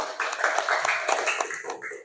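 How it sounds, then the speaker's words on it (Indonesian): Schoolchildren clap together in a classroom, a short burst of uneven, close hand claps lasting about two seconds, with voices mixed in. "tepuk tangan dulu."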